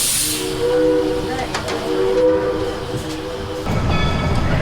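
A train rumbles and hisses steadily, with a sustained horn-like tonal drone through the middle, and the ambience shifts near the end.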